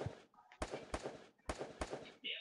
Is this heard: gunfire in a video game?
yes